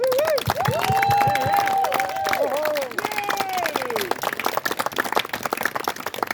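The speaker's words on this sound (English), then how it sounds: "So let's give them a little bit of a round of applause" An audience claps for former students at a school event, steady applause under a voice that talks or sings with gliding tones through the first few seconds, then clapping continues more raggedly.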